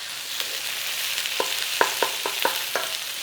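Onions frying in butter in a pan give a steady close sizzle, with a series of light clicks and scrapes from stirring spaced through it.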